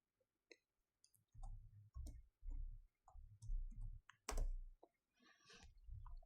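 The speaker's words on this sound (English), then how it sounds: "that's why I'm always typing slow." Typing on a computer keyboard, several short bursts of clicking keystrokes separated by pauses, close and fairly quiet, with brief speech sounds between them.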